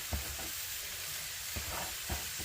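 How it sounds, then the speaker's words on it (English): Chorizo sizzles in a frying pan for a hash breakfast skillet, a faint, steady crackling hiss broken by a few soft stirring knocks. "we'll put our chorizo right in the middle of the pan"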